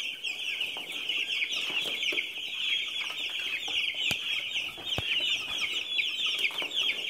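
Flock of about thirty meat chickens clucking excitedly at morning feeding time, a steady dense chorus of busy clucks and squawks with a few sharp louder calls, fairly close and with no talking.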